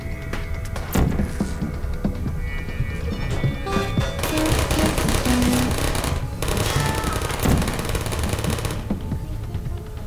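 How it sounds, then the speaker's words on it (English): Rapid automatic gunfire from a Portal turret, loud and close, chattering in dense, sustained bursts across the whole stretch with brief pauses between volleys. "she's shooting me while she's down"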